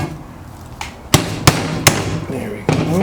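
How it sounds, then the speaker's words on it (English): A small hammer taps a wooden rake handle loose, giving four separate sharp knocks at uneven intervals that are close and fairly loud over a quiet room background. "I'll just tap that out. Maybe use my little hammer."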